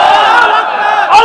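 A crowd at a Bangla waz religious gathering shouts a takbir response to the preacher, a short loud burst of many voices swelling together and then dropping away.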